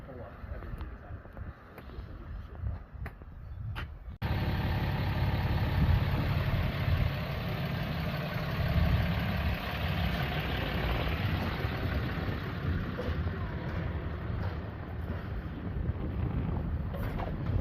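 A tractor engine idles steadily at a job site where a driveway and sidewalks are being torn out and replaced, a low continuous rumble with wind buffeting the microphone, and voices talk over it.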